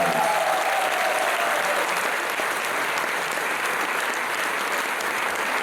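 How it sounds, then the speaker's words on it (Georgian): Concert audience at a choreographic ensemble's recital breaking into sustained, even applause from a large crowd, dense clapping that holds steady and loud throughout with a faint tone fading early on. "ტაში და აპლოდისმენტები დავაჯილდოთ ბატონი ბექა"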